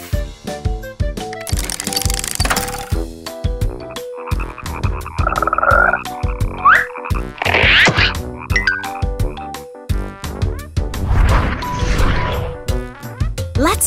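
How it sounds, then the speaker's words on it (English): Loud, close frog croaking comes in repeated sharp pulsing bursts, with rhythmic clicking croaks and a few brighter trilling calls, and no voice over it. "I think I know what this is. Frog!"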